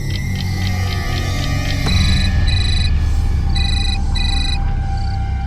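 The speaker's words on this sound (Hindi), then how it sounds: "सीमा को फोन करती हूँ।" A telephone rings on an outgoing call, with bright repeated electronic ring tones in evenly spaced bursts over a steady, loud dramatic background score in a TV crime drama scene.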